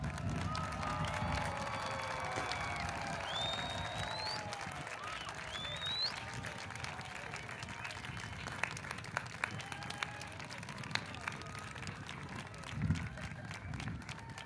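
Audience of family and friends applauding graduates at a university graduation ceremony. The clapping is sustained and moderately distant, with some cheering and whistles, and a few louder claps and noises near the end.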